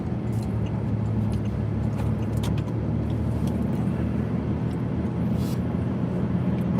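Steady engine drone and road rumble heard from inside a moving car, continuous and fairly loud with a low hum throughout.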